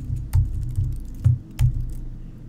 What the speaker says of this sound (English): if we type in dNorm